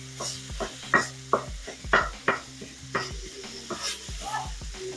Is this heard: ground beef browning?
yes